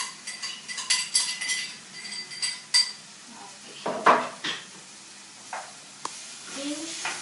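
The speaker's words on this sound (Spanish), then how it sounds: "ahora le vamos a agregar lo que es el apio" Celery goes into a pot of vegetable soup: intermittent clinks and scrapes of a utensil against the pot and stirring sit over a soft, steady sizzle, close by.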